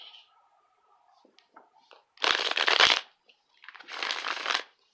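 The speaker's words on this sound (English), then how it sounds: "Just going to shuffle a couple times." Tarot cards shuffled by hand in two bursts of riffling and crackling, close and fairly loud, separated by a brief pause with faint soft handling sounds around them.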